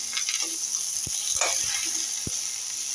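Okra, garlic and curry leaves sautéing together in a pan, a soft steady sizzle close by with a couple of sharp spatula knocks over a few seconds.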